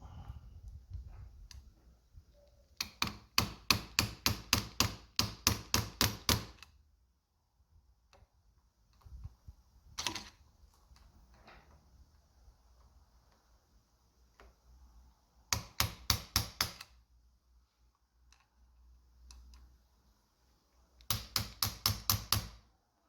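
Rapid bursts of sharp metallic taps on a Fox 2.0 steering stabilizer part, trying to knock it free, in clusters of about ten quick strikes separated by quiet pauses and a few single knocks.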